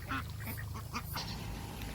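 Ducks quack in a farm yard, a handful of short, raspy calls in quick succession near the start, close and fairly loud over a steady low hum, with no talk.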